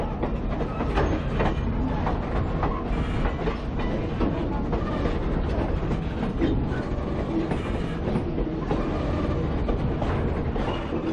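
A Mt Hood Railroad train running through orchard country near Hood River, Oregon, rumbles steadily on the tracks with continuous clickety-clack and a constant heavy roar close by.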